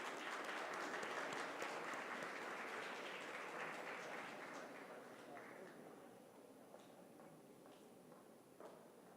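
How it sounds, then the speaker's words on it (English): Applause from an audience at a national moot court competition award ceremony, a steady dense clapping that gradually thins and fades over several seconds, heard somewhat distantly in a hall. "A huge round of applause."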